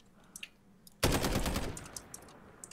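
A sudden loud burst of rapid automatic gunfire in the video game Warzone starts about a second in and rattles on before tapering off, with faint clicks and taps around it.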